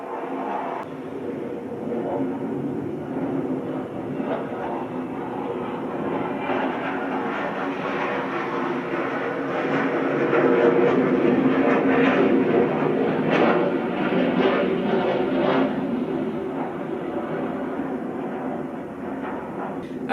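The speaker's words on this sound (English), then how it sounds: "the airplanes fly over exactly when I'm doing a freaking video." An airplane flies overhead, a steady broadband roar that swells louder near the middle of the pass and then eases off, heard alone without talk.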